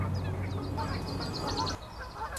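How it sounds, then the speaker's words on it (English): Canada geese honk and call at a distance across a gravel pit on an April afternoon, a steady faint chorus of overlapping cries over low wind rumble. "probably all the Canada geese there in the background"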